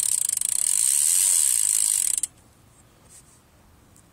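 An Eastern Venus rear bicycle hub freewheels with a loud, rapid ratcheting buzz close by for about two seconds, then cuts off abruptly to near silence.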